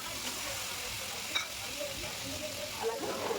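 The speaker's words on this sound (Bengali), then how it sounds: "তারপর চিকেনের কিছু টুকরো আমি দিয়ে দিলাম কড়াতে।" Chicken pieces sizzle and fry in a hot kadai, with butter as the cooking fat, making a steady crackling hiss throughout, joined by a few faint scraping and clinking sounds.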